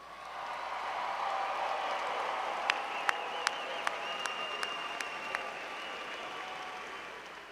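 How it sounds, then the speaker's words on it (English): A large crowd applauds newest graduates at a Clemson University graduation ceremony, a steady wash of clapping that fades slowly, with a few sharp individual claps standing out near the middle. "How about another round of applause for our newest graduates?"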